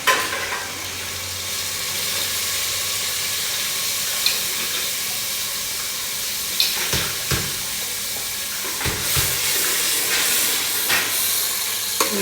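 Tomato paste fries in a pan for a spinach and potato curry, giving a loud steady sizzle and hiss with a few scraping clunks of stirring in the second half.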